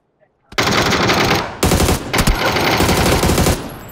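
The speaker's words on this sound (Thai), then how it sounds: "ได้ป่ะผมยิงยางมันแตก" Sustained PUBG automatic gunfire aimed at a vehicle tire, loud and near, in two long continuous bursts after a brief quiet start.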